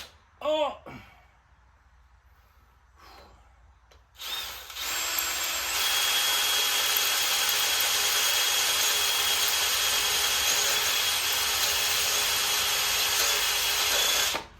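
A worn power drill with a slipping chuck bores out a broken stud on a Big Block 454 engine, whining loud and steady for a long stretch after a few faint scrapes and a brief voice at the start.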